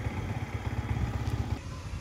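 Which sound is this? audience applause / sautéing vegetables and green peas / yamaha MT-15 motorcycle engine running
yamaha MT-15 motorcycle engine running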